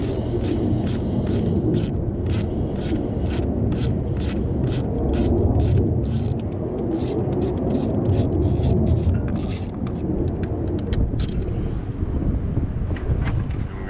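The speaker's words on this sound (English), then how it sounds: "Our mounting location for our oil separator is this 8mm bolt holding down one of the intercooler pipes. Remove that bolt." Someone removes an 8mm bolt from an intercooler pipe on a 2024-2026 Ford Ranger 2.7L EcoBoost, with rapid, regular ratchet clicks in bursts over a low background rumble.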